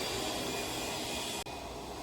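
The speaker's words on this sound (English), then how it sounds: "as usual, the vacuum had to go on, even though there's no people" A vacuum cleaner runs at an orchid society show, giving a steady, fairly faint broadband whoosh with a brief dropout near the end and no talk.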